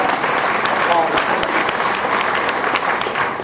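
Applause from an audience at a nutrition presentation: dense, continuous clapping close by, holding steady for several seconds and fading slightly at the end.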